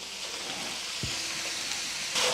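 Ground beef and chopped onion sizzle steadily in a pan for a sloppy joe filling, a close, even frying hiss broken by a single scrape of a utensil.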